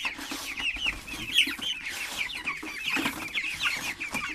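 Hens clucking and calling in a farm coop, several birds near the microphone with busy overlapping clucks and short squawks throughout.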